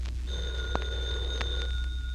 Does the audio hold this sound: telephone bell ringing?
yes